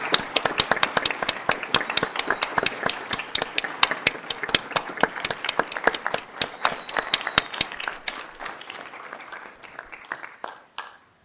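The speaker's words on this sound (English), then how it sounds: "I would like everyone in the audience to stand and give these 2 people a round of applause." Audience at a West Haven, Utah city meeting standing and clapping, a close, sharp round of individual hand claps that thins out and tapers off toward the end.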